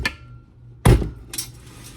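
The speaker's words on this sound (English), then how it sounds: "you're going to take your bowl off your mixer here" A mixing bowl is lifted off a stand mixer, giving a single sharp metallic clunk followed by a lighter clink, both close and brief against a quiet kitchen background.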